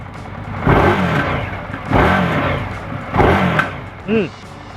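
An Indian Scout cruiser motorcycle engine revs three times in different riding modes, each rise and fall loud and close, followed by a short higher whine, with a voice talking between the revs.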